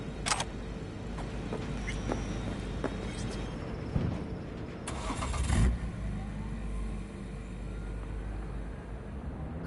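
A car engine in the video game Cyberpunk 2077, a low, steady rumble with a brief louder surge midway as the characters set off, cold outdoor setting, no voices.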